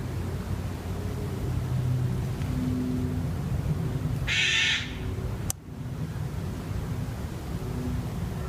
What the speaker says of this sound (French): on peut entendre les oiseaux. On en a énormément. Plusieurs variétés.